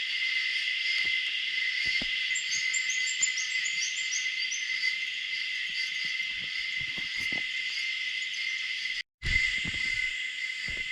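Birds calling in a mosquito-free bush spot in northern Australia, a few chirps and a descending trill over a loud, constant drone of insects, with scattered light knocks and a brief break near the end.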